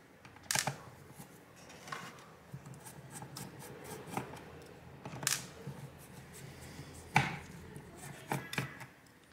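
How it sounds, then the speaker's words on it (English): Small Phillips head screws are backed out of an AMD RX 480 graphics card one after another. Quiet, irregular clicks and scrapes of the screwdriver come at close range over a faint background. "I'm going to take out these variety of small Phillips head screws that I can see"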